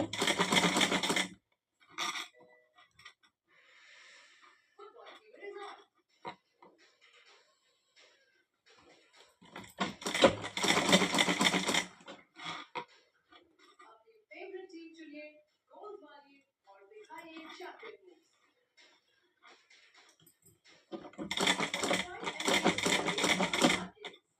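A sewing machine stitches a fabric pillow cover, running in three loud bursts of rapid stitching separated by quieter stretches where a person talks.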